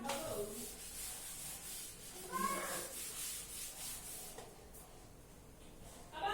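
Rapid scrubbing strokes of a board being rubbed clean in a classroom, a steady swishing friction with a few louder passes, fairly close and moderately quiet.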